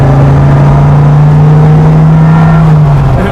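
Dodge Viper engine droning loud and steady throughout, a deep exhaust hum holding a constant pitch with a slight dip near the end, no talking.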